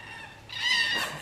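Red-tailed cockatoos calling from trees along a bush walking track, a short harsh screeching burst rising in the middle, moderately distant and noisy.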